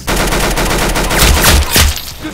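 Rapid, continuous gunfire in the Roblox game Arsenal rattles loud and close, in a dense burst of shots that swells briefly before easing off.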